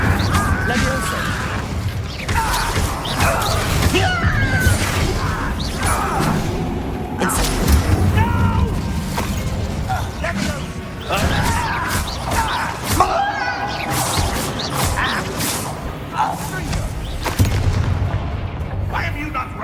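Fiery Incendio spell blasts from Hogwarts Legacy erupt repeatedly as booming, crashing bursts within busy combat noise, with a voice speaking between the impacts.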